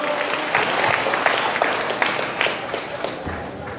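A church congregation at a Catholic gathering breaks into sustained applause for the Lord, a steady wash of many hands clapping, with a few voices mixed faintly underneath.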